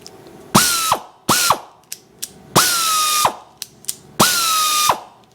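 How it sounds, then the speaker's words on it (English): A small handheld mini ratchet clicks in four quick bursts of rapid pawl ratcheting, each a sharp dense rattle close to the microphone, with brief single clicks between strokes. "it's one of those like mini ratchets, right?"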